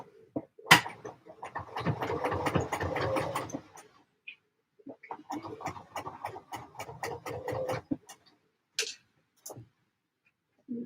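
A sewing machine stitches in the ditch of a quilt in rapid rhythmic bursts, running steadily for about three seconds, pausing, then running again in a longer burst before a few brief clicks, close and fairly loud with no talking.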